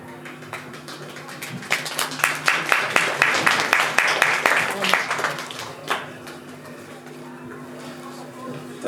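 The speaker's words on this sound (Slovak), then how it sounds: "Ten potlesk" Audience applause at an anime show, clapping swelling from scattered claps into a fuller burst of dozens of hands, then thinning out again to sparse claps, moderately distant.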